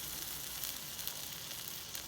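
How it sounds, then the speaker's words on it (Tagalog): A pot of water holding potatoes boils on the stove, giving a faint, continuous bubbling hiss with small irregular pops and no voices. "Ayan, kumukulo na."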